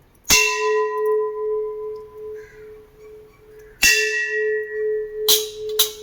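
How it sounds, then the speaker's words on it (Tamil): An old round bronze pot is struck three times, each blow giving a bright metallic clang followed by a long, steady ring like a temple bell, loud and close with the tone hanging between strikes. "கோயில் மணி மாதிரி எப்படி சவுண்டு கேட்குதுங்க பாருங்க."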